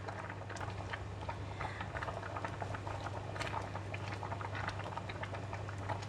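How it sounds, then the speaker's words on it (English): Rice boiling in an open pot on the stove, a steady faint bubbling and popping patter with a low constant hum underneath, even throughout and without speech. "After 4 minutes, the rice is boiling."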